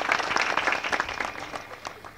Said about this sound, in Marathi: स्नेहलसाठी आपण टाळी वाजूया सगळेजण.